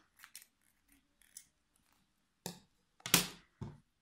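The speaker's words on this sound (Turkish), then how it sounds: "omuzu dikmeye yetecek kadar ipimi bırakarak şöyle kesiyorum" Scissors snip through crochet yarn close up: a few faint light clicks, then three crisp, quiet cuts in quick succession near the end, with no talk.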